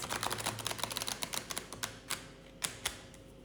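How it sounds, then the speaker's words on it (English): Rapid crisp clicking and riffling of cards, dense at first and then thinning into a few sharper snaps, close and moderately loud. "shuffle the deck"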